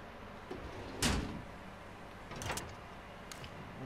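A door swinging open in the video game Call of Duty: Modern Warfare Warzone, with one fairly close creak-and-thud burst, a softer second rattle a moment later, and a faint click near the end over quiet background hiss.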